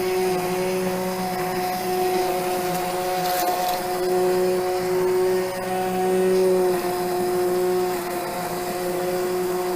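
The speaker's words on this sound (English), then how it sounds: "with my immersion blender, I'm gonna puree everything" Immersion blender pureeing roasted butternut squash soup in a pot, a steady, close, loud motor whine running continuously for the whole stretch with slight surges in pitch and load, no talking.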